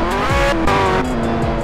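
A McLaren Senna driving in Roblox, its engine a loud steady tonal drone with pitch shifts as gears change, heard up close and continuous with no talk.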